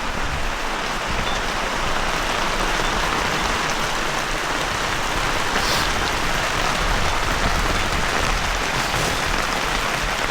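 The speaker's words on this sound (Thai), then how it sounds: "ฝนสาดหนักเลย" Heavy storm rain pours onto a camping tent, a dense, loud, unbroken roar of drops drumming the fabric without pause throughout.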